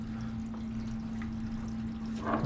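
Water drains from a kitchen sink through a newly fitted drain assembly, a soft steady trickle and gurgle with a low pump-like hum underneath and a brief louder splash at the end.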